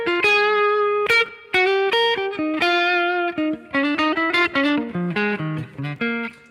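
A bluesy electric guitar lick with slightly overdriven tone, clear picked notes in a quick phrase that ends with a chromatic run from the third to the fifth, played alone with no talking.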